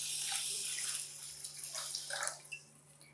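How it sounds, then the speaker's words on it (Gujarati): Water is poured into a pot of washed rice being readied for cooking, making faint, intermittent splashes and trickles close by in a quiet kitchen. "હવે આમાં પાણી એડ કરવાનું."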